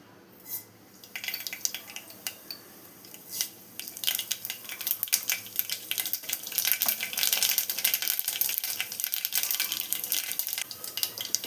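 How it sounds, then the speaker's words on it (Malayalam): Two teaspoons of mustard seeds crackle and pop in hot oil in a pan while a Kerala dal curry is cooked. The sparse pops build into a dense, close, continuous crackle, with no talking. "കടുകൊന്ന് പൊട്ടി വന്നിട്ടുണ്ട്."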